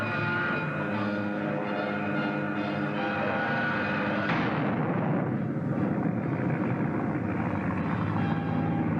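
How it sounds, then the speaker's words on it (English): An anti-aircraft gun fires in a 1939 film serial, a dense, continuous roar of rapid blasts mixed with engine drone, loud throughout with a shift in tone midway. "Got the anti-aircraft gun."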